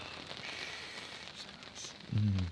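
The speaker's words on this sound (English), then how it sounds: "Rain hitting a tent." A steady patter of rain hitting a tent during solo camping, a soft close hiss, with a brief low thump near the end.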